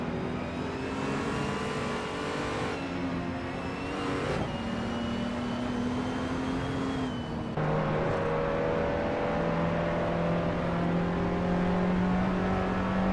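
Race car engines in a video game race at Spa, held at a steady high drone with shifting pitch as gears change, loud and continuous throughout with no talking.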